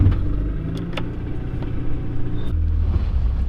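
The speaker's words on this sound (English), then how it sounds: "I still think it's the lifters. It sounds like lifters to me." A neglected Mitsubishi Evo 9 engine idles with noisy lifters, a steady low rumble overlaid with fast faint ticking, heard continuously from close by with no speech.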